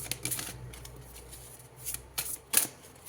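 Tarot cards shuffled by hand in a few quick, crisp riffling bursts, close and fairly quiet, with no talking.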